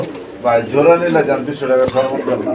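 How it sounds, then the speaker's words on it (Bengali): Pigeons coo in low, throaty bursts over steady chatter and market noise at a pigeon market, with a sharp tap partway through. "এখানে আরও এক জোড়া কবুতরের কালেকশন আছে"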